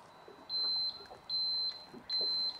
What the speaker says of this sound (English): a beep from the Guardian